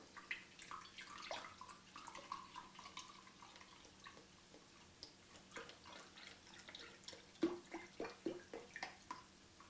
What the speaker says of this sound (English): I'm going to add some of this beef broth to it